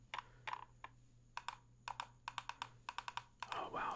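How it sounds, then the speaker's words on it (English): Mouse scroll wheel being spun, giving a string of crisp, quick ticking clicks in bursts, some rapid runs and short pauses, close up and fairly quiet against a faint steady hum. "the scroll wheel makes a very nice clicking sound too"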